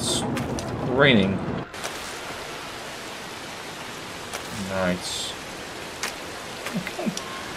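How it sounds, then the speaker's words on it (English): Rain pours in a horror video game, a steady hiss that fills the clip, while a voice speaks briefly near the start and again in the middle. "And now it's raining."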